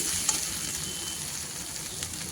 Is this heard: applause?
no